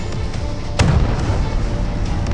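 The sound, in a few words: warship gunfire in video game Battle of Warship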